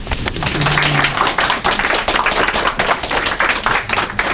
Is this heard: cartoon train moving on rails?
no